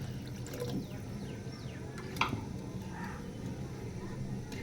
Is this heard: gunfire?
no